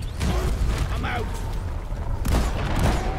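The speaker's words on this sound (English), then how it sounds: "Come to the explosions." Explosions and gunfire from the video game Deep Rock Galactic sound in broad rumbling bursts, one near the start and another toward the end, over a steady din of game noise while players talk.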